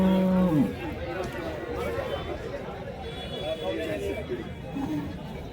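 At a cattle market in Chalisgaon, a tall-breed pregnant cow lets out a short low moo at the start, then crowd chatter and people talking fill the rest.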